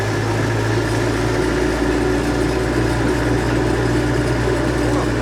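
A Scout 404C tractor engine idling, warmed up, with a steady, continuous low rumble and hum, close by, unchanging throughout.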